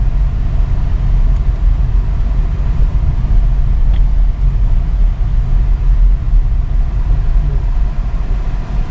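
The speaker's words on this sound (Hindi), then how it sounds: "अब ये गाड़ी को देखिए ऐसे कंडीशन में यहाँ पर खड़ी है, अब ये पीछे लाओ गाड़ी, पीछे लाओ" A car reversing on a road during a beginner's driving lesson, heard as a steady, loud low engine drone that holds throughout with no clear gear changes or talk.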